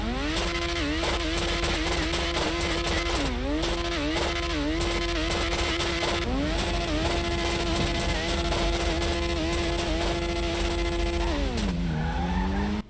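Formula One race cars in the GTA 5 video game scream continuously at high revs, with the engine pitch climbing and dropping through repeated gear shifts, loud and constant with no talk.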